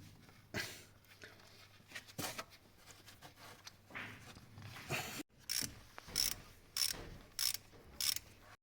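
A torque wrench clicks repeatedly as the timing belt pulley bolts are tightened, giving a series of sharp mechanical ratcheting clicks at a regular pace, fairly quiet and close.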